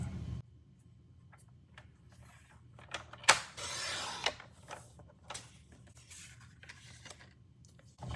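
Paper trimmer slicing a cardstock panel for a handmade card, a quiet scraping slide that swells into one brief cutting swish near the middle, with soft handling noises around it in a quiet room.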